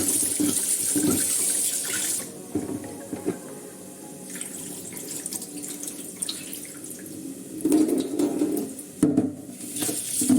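Tap water running into a sink while basmati rice is washed, a steady close hiss broken by swishing and splashing bursts as the grains are stirred, with brief pauses in the flow.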